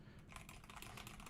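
Rapid, faint keystrokes on a computer keyboard, a dense run of soft clicks heard alone.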